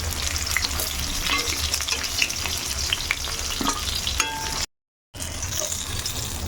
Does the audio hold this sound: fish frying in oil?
yes